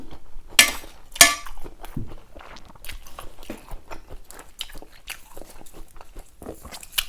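Someone eats a plate of stir-fried mixed seafood with holy basil, making close, quiet chewing with a few sharper crunchy bites and faint clinks.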